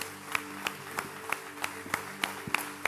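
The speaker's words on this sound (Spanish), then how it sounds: "Quiero darle un aplauso al Señor." Church congregation at a Sunday service clapping in a steady rhythmic beat, about three claps per second over a sustained music-like drone, moderately faint and somewhat distant.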